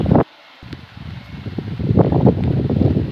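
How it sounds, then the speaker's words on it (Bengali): Gusty wind buffets the microphone in loud rumbling bursts at a lotus wetland on a cloudy, drizzly day, dropping out briefly before returning stronger and steady. "বৃষ্টি এবং বাতাস"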